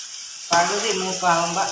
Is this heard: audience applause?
no